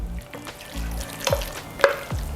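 Cooked ground beef for a cottage pie is stirred in a pan, giving a soft, moist sizzle with a few brief scraping clicks, quiet and close, over faint background music.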